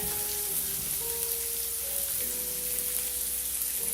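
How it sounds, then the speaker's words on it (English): Food sizzles and crackles steadily in a hot pan, a continuous bright hiss, with faint tonal hums in the background. "the sizzle is the best part"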